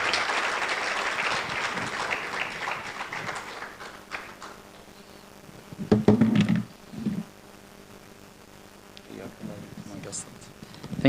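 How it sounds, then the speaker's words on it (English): A warm round of applause from a STEM education conference audience fills the first few seconds and then fades. A brief louder flurry of clapping or knocking comes near the middle, and quieter room sound follows. "Would you please give the warmest"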